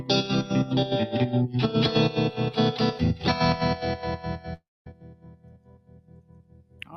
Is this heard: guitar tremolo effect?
yes